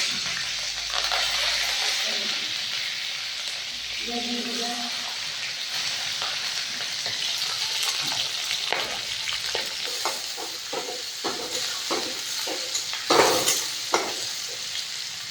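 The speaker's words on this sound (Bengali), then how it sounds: "তেল গরম হয়ে গেছে, কাঁচা লঙ্কা, কারি পাতা সব দিয়ে দেব।" Green chillies and curry leaves hit hot white cooking oil, giving a loud steady sizzle with repeated scraping stirs of a spatula in the pan, close up and without talk.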